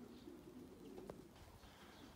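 Faint, low cooing from a group of around forty pigeons drifts in soft repeated murmurs, with a brief sharper tick midway and no voices over it.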